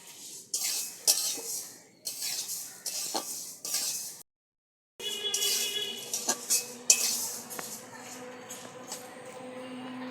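Lentils being dry-roasted in a hot pan with no oil rattle and scrape in repeated bursts of stirring, with clinks of a utensil against the pan and a brief silent gap midway.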